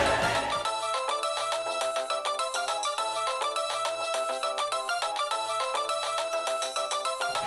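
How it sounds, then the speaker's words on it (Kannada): A phone ringtone plays loud and steady, a repeating electronic melody with a pulsing rhythmic beat that continues unbroken. "ಫೋನ್ ರಿಂಗ್ ಆಗ್ತಿದೆ"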